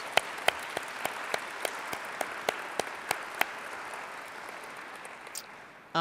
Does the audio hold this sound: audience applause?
yes